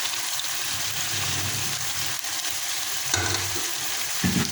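Chicken sizzling and frying in a pan with ground ginger and green chilli, a steady close hiss with occasional stirring scrapes and bursts of louder crackle.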